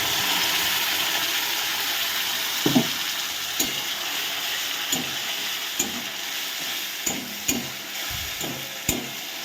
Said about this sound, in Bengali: এবার আমি এই ভাজা পেঁয়াজের মধ্যে দিয়ে দেব টমেটো বাটা